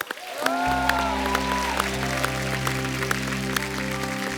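Applause from a studio audience welcoming a singer on a comedy talk show, steady and sustained beneath sustained musical tones and a band's fanfare.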